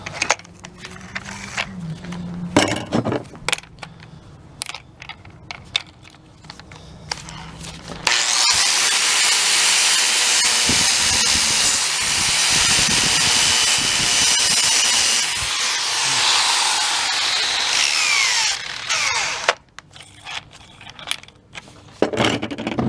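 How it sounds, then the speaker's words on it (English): An angle grinder fitted with a flap wheel grinds steel on a tow bar retrofit, a loud sustained rasping whine for about eleven seconds, framed by clinks, handling knocks and workshop clatter before and after. "I'm going to put it up with the flapper wheel"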